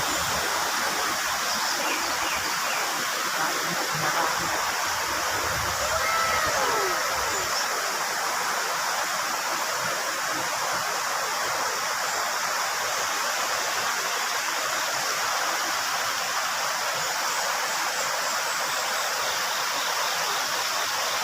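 A river runs steadily, a broad constant rush of flowing water that holds loud and unbroken from start to end.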